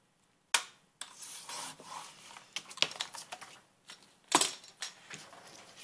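Card paper is cut on a trimmer for a handmade baby boy card, heard as a sharp snap followed by a steady close scraping slide of the blade and another sharp click near the end.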